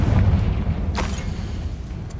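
A Confringo fire spell explodes in Hogwarts Legacy, giving a short, loud boom with a deep rumbling low end and one sharp burst in the middle, alone without talk.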